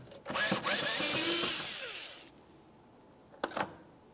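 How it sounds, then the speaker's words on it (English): Power driver with a T30 Torx bit whirs for about two seconds, backing out radiator fan bolts on a 2011-2018 Volkswagen Jetta, winding down, followed by a short second burst. "We'll use a T30 Torx bit to remove this side and then do the exact same thing on the other side."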